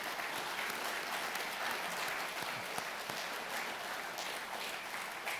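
Steady applause from a large audience at a naval institute annual meeting, a continuous, even wash of clapping heard from a distance at low volume.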